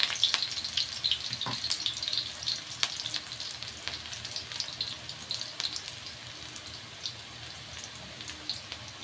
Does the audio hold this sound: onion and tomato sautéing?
yes